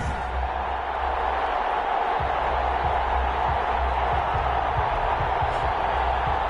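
A large stadium crowd before a football game between the London Monarchs and Columbus Aviators, a constant loud roar of cheering with scattered thumps, no talk.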